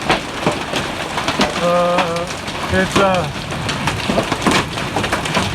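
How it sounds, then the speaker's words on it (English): Hail pounds down in a big evening storm after a long spell of rain, a dense, loud, continuous patter over the whole span, with someone speaking briefly over it and some faint tonal sounds rising through the middle. "Oh, that hail's so loud."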